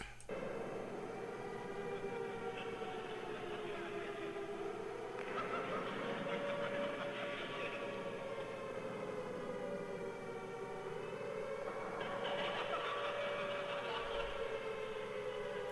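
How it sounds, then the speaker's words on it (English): A wailing siren slowly rises and falls, drenched in heavy reverb that smears it into a wide, echoing wash, steady and fairly quiet. "I put some reverb, well, actually quite a lot of reverb on the siren."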